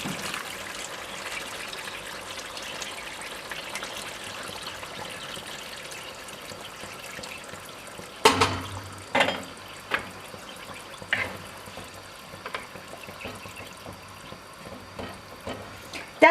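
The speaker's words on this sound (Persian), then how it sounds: "حالا دوباره یه مقدار آب جوش میریزم" Boiling water is poured over eggplants in a cooking pot for a meatless Persian eggplant stew, a faint steady trickle and pour followed by a few sharper knocks and clinks of the pot near the end.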